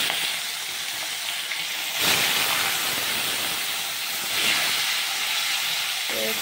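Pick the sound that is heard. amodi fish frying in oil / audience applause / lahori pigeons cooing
amodi fish frying in oil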